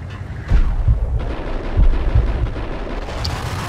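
Heavy gunfire booms in the video game Max Payne, several deep, loud blasts in quick succession with rumbling tails and a thinner rattle near the end.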